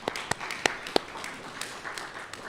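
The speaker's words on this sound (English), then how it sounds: "let's just give our teachers and our friends and our family a round of applause" At a HiSET graduation ceremony, a few people clap, sharp separate claps at the start followed by a faint, thin patter of applause.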